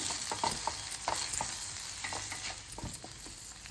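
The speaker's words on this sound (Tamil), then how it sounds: "தக்காளி வதக்கிறதுக்கு கொஞ்சம் உப்பு சேர்த்துக்கிறேன் தக்காளி நைஸாக வதங்கட்டும்" Tomatoes sauté with a little salt in a pan for tomato poha upma: a soft, quiet sizzle broken by repeated spatula scrapes and stirs in an uneven rhythm, with no talking.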